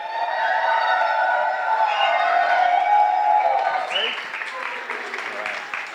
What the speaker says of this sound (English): I'd like you all to give a very, very warm round of applause to your best man tonight.